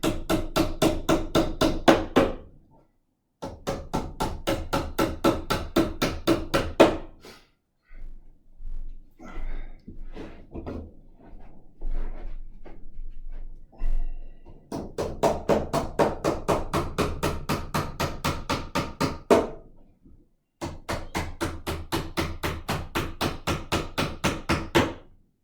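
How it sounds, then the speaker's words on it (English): Rapid, steady hammer blows joining pieces of an IKEA MALM chest of drawers come in several long runs separated by short pauses, with a stretch of quieter, irregular tapping in the middle. "be sure to hold the 2 pieces together and hammer them in"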